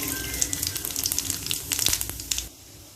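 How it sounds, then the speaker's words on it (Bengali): Panch phoron five-spice seeds hit hot mustard oil in a kadai for mango pickle, giving a brief crackling sizzle with sharp pops that fades out after about two and a half seconds. "তেলের মধ্যে এই 5 ফোড়নটা দিয়ে দিলাম"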